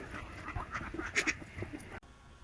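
Khaki Campbell ducks confined on a raised farm platform quack in short, scattered calls at moderate distance, overlapping with one another against low background noise.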